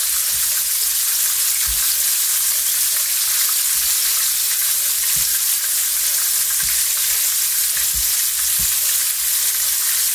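Flour-coated, already-cooked shrimp fry in a pan with a steady, dense sizzle and crackle throughout, broken by occasional soft low thumps as pieces shift, with no talking.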